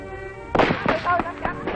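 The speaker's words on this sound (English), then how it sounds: "a chance to fire their rifles and carbines is a big occasion for these young villagers and farmers" Several rifle and carbine shots crack in quick succession at outdoor shooting practice in a Vietnamese village, sharp reports following one after another.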